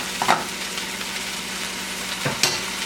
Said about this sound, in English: I just want to stir this up a little bit